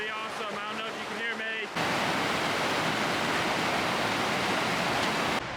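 A river beside a glacier hiking trail rushes loudly and steadily after someone speaks briefly at the start, the broadband roar of the flowing water filling the rest.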